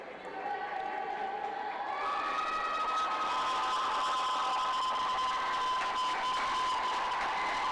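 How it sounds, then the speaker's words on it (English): A crowd at a high school swim meet cheers loudly and steadily through the final lap, with shrill whistles and sustained yelling filling the natatorium, voices mixed into the roar. "The whole crowd erupting in cheers."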